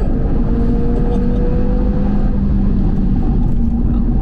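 Audi TT RS engine pulling hard at full throttle, a steady loud low rumble with a sustained droning tone throughout, heard from inside the car with no break.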